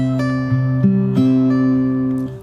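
Fingerstyle acoustic guitar plays a bar of a pop song: plucked bass notes and ringing melody notes move in a few clear steps, each sustaining into the next, close and clean with no voices.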